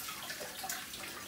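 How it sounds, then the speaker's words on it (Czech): Water runs steadily from a household tap into a sink or tub, a broad continuous hiss and splash with no voices over it. "Venda, jdeme se pouštět vodu, abych mohla mluvit."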